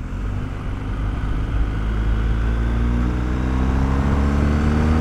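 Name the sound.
BMW R 1250 GS motorcycle engine accelerating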